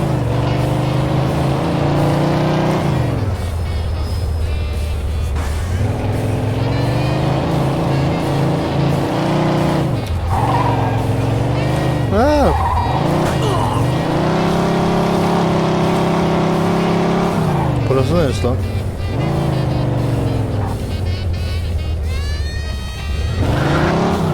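A car in Mafia II drives with a loud, continuous engine roar that rises and falls through gear changes, with repeated tire skids and squeals along the way.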